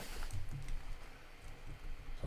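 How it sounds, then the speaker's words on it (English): Typing on a computer keyboard while building a website, soft scattered key clicks at an uneven pace, close but faint over a low room hum. "Why am I typing so bad?"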